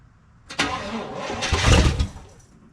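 An old IH pickup truck engine, left sitting for nearly 30 years, cranks and catches close by, rising into a brief rough roar before fading.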